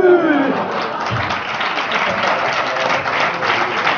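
Audience applause at a live Spanish TV presentation show, a dense wash of clapping from a crowd that holds steady throughout, with a brief voice near the start.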